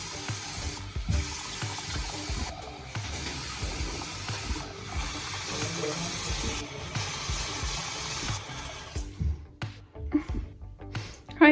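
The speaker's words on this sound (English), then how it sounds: "I'm just running the water for Leia." Warm tap water runs steadily into a basin to fill a foot bath, a continuous close hiss and splash that cuts off near the end, leaving a few scattered knocks and drips.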